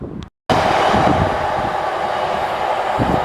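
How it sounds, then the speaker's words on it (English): A train bound for Middlesbrough rumbles past close by on the England Coast Path near Redcar, a steady rolling roar that carries on throughout after a brief cut near the start. "as the train goes past to Middlesbrough"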